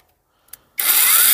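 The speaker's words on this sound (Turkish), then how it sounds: "Şimdi şu testeremizi bir deneyelim." A cordless battery pruning saw starts up with a small click, then runs on as a loud, steady, bright buzz for the rest of the moment, close by and with no talking.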